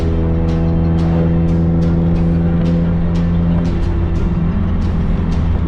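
A 2018 Subaru STI fitted with a racing oil cooler rolls slowly through a residential neighborhood in cold weather, its steady low engine drone loud and continuous, with periodic soft ticks and thumps.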